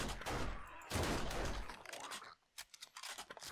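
Hunting rifle shots in the video game 7 Days to Die, a loud burst of sharp gunfire with rattling echoes, then a few quieter clicks and clacks of reloading.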